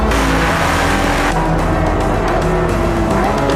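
A Ferrari F80 sports car drives hard in a steady, loud engine roar with shifting harmonic tones, sustained close and unbroken throughout, with no talk.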